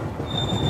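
A passenger train on the Konkan route halting at Roha station during the monsoon, with a steady low rumble of the carriages and a thin high wheel squeal running throughout, no talk.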